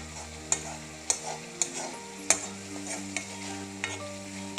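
Garlic paste frying in a pan, with a spoon stirring and scraping at an even pace, several sharp scrape clicks over a soft steady sizzle, close and fairly quiet, with no talking.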